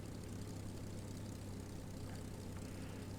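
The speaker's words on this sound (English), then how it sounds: "listen to the sounds of the engine" A steady, droning propeller engine of a Supermarine Seafire Mk.IIb/III idles continuously in Microsoft Flight Simulator at a constant pitch, fairly faint and unchanging, with no voices.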